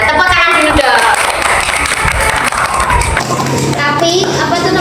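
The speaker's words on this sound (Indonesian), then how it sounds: "kita tepuk tangan dulu dong" A group of young people in a discussion on social conflict claps hands together loudly and briefly, with cheerful voices and shouting mixed over the patter.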